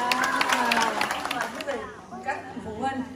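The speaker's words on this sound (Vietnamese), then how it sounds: "Đủ rồi quý vị, cho một tràng pháo tay" An audience at a Vietnamese-language school quiz event claps, with a burst of applause and crowd chatter mixed under a voice speaking over it, the clapping thinning toward the end.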